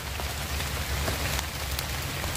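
Heavy rain pours steadily in a dense, even hiss near a mountain area, loud and unbroken, with no talking.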